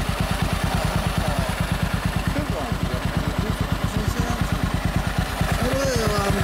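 MZ 250 single-cylinder racing motorcycle fitted with a White House exhaust, its engine running in a steady, rapid loud thumping pulse up close, with a slight rise in revs near the end.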